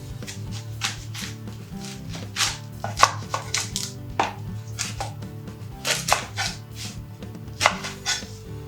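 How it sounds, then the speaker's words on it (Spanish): A knife cuts a red onion into wedges on a board, a series of distinct close chopping thuds at an irregular, unhurried pace over a faint musical background. "Cortamos la cebolla morada en gajos, porque queremos que se note"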